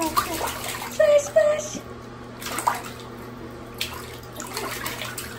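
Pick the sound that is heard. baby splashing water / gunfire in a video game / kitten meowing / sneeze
baby splashing water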